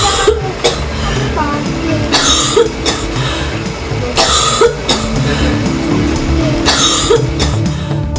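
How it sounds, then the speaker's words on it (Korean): Repeated harsh coughing fits from an asthma patient during an asthma provocation test, loud and close, bursting out every second or two with strained breaths between them. "쉴 새 없이 기침을 쏟아냅니다"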